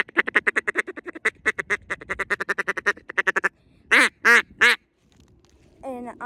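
A Duck Commander Shadow duck call blown in rapid ticking bursts, followed by three long, loud raspy quacks and a shorter trailing quack, played alone and close.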